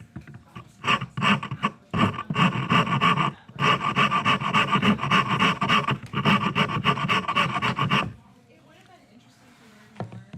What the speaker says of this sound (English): then we can get in with our straight rasp again